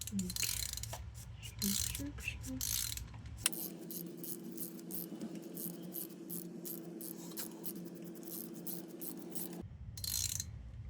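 A 5/8 socket wrench ratchets as it loosens a spark plug on a Harley-Davidson Sportster, quick clicking bursts, then a steady low hum under faint clicks, close by and quiet.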